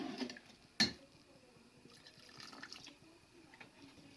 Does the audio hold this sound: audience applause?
no